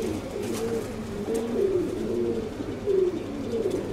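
Domestic pigeons, including white birds and the ginger variety, coo in a steady overlapping chorus of low, throaty, rolling calls, close and fairly loud, without any talking.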